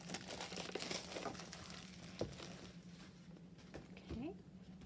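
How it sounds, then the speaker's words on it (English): Plastic packaging being pulled off a Disney Doorables Nightmare Before Christmas toy, with soft, close crinkling and rustling throughout and a faint voice in the background. "Just going to remove the plastic."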